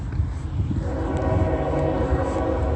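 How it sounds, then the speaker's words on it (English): Union Pacific train passing at night, a continuous rumbling roll with a sustained tonal horn blast layered over it, steady and moderately loud. "you are using nothing other than the sound of a train"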